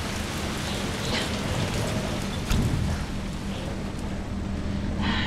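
Steady rain patters down continuously in the video game Resident Evil 3 Remake, a dense wash of drops on surfaces with a soft low rumble underneath.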